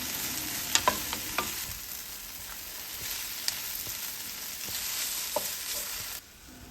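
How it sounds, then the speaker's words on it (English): Yakisoba noodles and vegetables stir-frying over low heat, a soft, fairly quiet sizzle with scattered clicks and scrapes of stirring, ending abruptly. "Turn your stove to low heat and stir noodle around with all the veggies"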